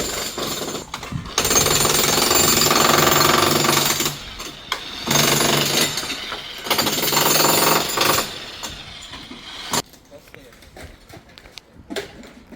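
Loud jackhammer bursts from renovation work on an apartment block pound in several long stretches, pausing between them, then fade to quieter clatter with a voice speaking nearby.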